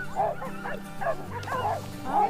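Sled dogs yip, whine and bark together close by, a continuous excited chorus of rising yelps and howl-like cries over a short stretch.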